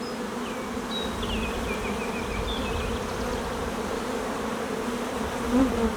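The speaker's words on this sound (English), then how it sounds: "Man, got a lot of bees." Many honeybees buzz at a hive in a dense, continuous drone close by, with a few faint high chirps drifting in the background.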